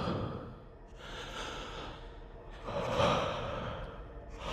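Close, slow heavy breathing in a horror story scene: a long exhale, a pause, then another deep audible breath, up close and with no other sound.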